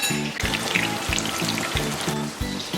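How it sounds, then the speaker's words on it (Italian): Zucchini frying in a pan for summer pasta con zucchine, a steady close sizzle with a regular rhythmic low thumping pulse running beneath it throughout. "Mentre la zucchina frigge"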